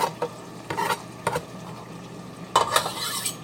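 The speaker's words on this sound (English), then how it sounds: "into the pot goes all our corn." Corn tipped into a home-cooked chili pot gives a few soft scraping, stirring clatters with a faint sizzle underneath, close by and brief, arriving in short bursts with quieter gaps between.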